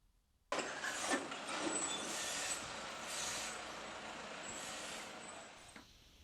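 A biomedical waste truck hisses with a sharp burst of air brakes, then a sustained airy release and engine noise settle at moderate loudness, heard close by.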